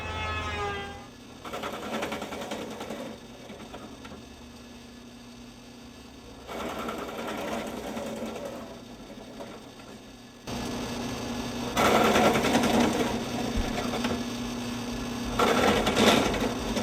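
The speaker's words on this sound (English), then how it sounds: "Now I'm ready to start drilling with a drill press, and that'll take out most of the waste" A drill press boring out waste wood for a wall-hanger gun chamber: a steady motor hum broken by repeated bursts of drilling, several passes a few seconds each, close and fairly loud, with no talking.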